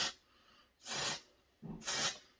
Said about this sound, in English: let's see what happens when we put a bit of Voodoo's Prep Talk dry texture spray in